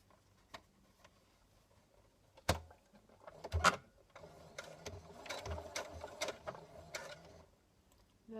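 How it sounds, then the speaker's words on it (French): Domestic sewing machine topstitching a folded seam allowance in straight stitch, its needle mechanism whirring and ticking in steady bursts with a few sharper clunks, close and fairly quiet with no talk. "On va surpiquer en point droit."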